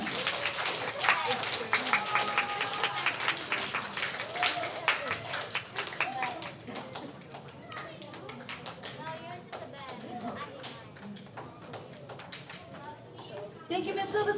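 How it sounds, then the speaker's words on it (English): Audience members at a fourth-grade school awards ceremony clap in a dense, fairly even round of applause that fades slightly, then swells again at the end, with a voice talking over it. "Let's give them one more round of applause."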